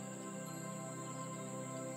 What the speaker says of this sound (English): And you can hear the sounds of crickets in the undergrowth.